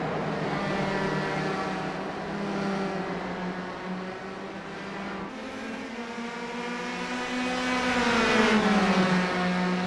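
Open-wheel race cars in a sim racing game at NJMP, engines droning loudly and continuously with rising and falling pitch as several cars run close together, the revs climbing toward the end.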